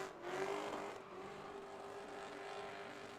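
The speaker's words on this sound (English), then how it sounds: "Really living on the limiter on this with this BMW." BMW drift car with an M60 engine at a Formula Drift ProAm qualifying round, revving hard and held on the rev limiter in a loud, steady, buzzing scream for about three seconds, close by and with no talking.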